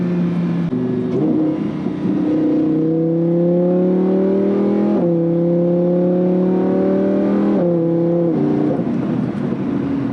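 A Lamborghini Huracan 610-4 engine drones loudly from inside the car while driving, its pitch rising steadily and then dropping sharply at several gear shifts.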